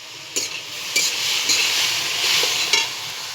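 Capsicum, onion, tomato and chili for pasta fry in a pan over a stove, a steady sizzle broken by several scraping stirs of a spoon, close and clear with no talk.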